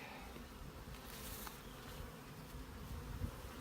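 A steady, dense buzzing of many honey bees close by around a hive, continuous and even throughout, with no voices.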